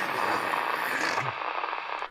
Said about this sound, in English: Angry, loud white noise.